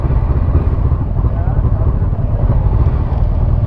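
Honda CB500X motorcycle riding along Cassino beach in Rio Grande do Sul, a steady low engine drone mixed with heavy wind buffeting, continuous and close, with a rider talking over it.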